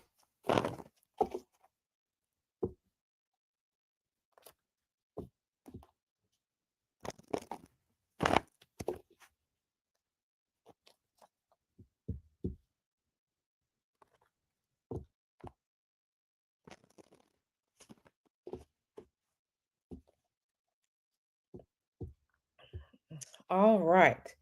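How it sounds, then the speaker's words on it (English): A tarot card deck being shuffled by hand, heard as faint, sparse clicks, taps and soft card snaps scattered across a quiet room, ending in a denser flurry of riffling. "So let me start shuffling."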